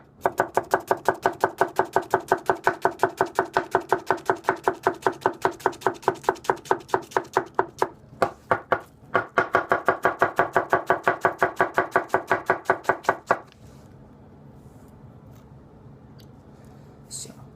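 Rapid, steady knife strikes on a cutting board as a Gassan 210 gyuto chops onion into brunoise, loud and close, with a short pause midway before the chopping stops and leaves quiet room noise.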